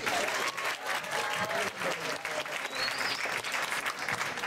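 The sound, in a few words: audience applause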